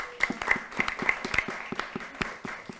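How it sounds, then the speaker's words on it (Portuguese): Audience applause for a Bahian historical figure at a storytelling event, heard as a few sparse, irregular claps, fairly faint and thin rather than a full ovation. "Palmas para ela."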